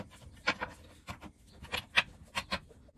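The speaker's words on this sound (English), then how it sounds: "The last thing I'm going to do is to tighten up these nuts with a spanner." A metal spanner tightens the nuts on a chainsaw clutch cover, giving a close series of short scraping, rasping bursts in an irregular rhythm with no talk.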